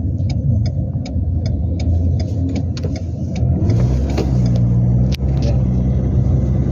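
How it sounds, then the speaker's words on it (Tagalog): Motor tricycles and other vehicles go by on a busy street at a commercial center, a steady engine rumble and revving that runs throughout, with a few sharp clicks and one short spoken word. "Ang daming sakyan dito, ang daming mga tricycle kasi dito yung nauso."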